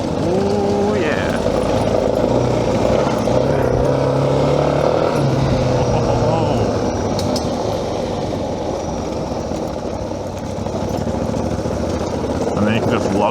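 A motorcycle in fifth gear accelerates with a loud, continuous engine drone under heavy wind rush, and a rider talks over the noise.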